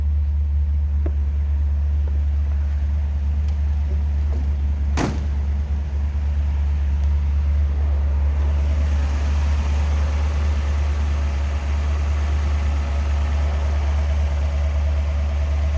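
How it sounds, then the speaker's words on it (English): A Ford 292 V8 engine in a 1956 Ford Thunderbird convertible idles smoothly with a steady low rumble throughout, a brief sharp click near the start, and broadband hiss rising partway through. "Again, I'm going to go with 292. V8. Smooth runner. Sounds good."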